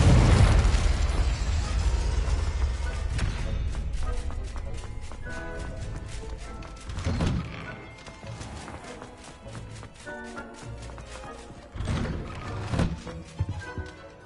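Spell blasts in the Hogwarts Legacy video game, loud booming explosions with crackling bursts, a heavy one at the start and further bangs around seven and twelve seconds over game music and effects.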